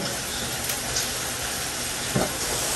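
Ingredients sautéing in a pan, including garlic, a dense continuous sizzle and hiss, close and steady, with a brief soft knock or scrape near the end.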